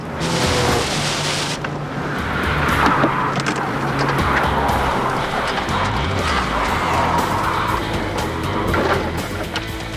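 A convertible car hydroplanes across a soaked tarmac skid pad at about 120 mph, a loud rushing roar of tires through water and engine noise, with spray and wash sweeping past continuously.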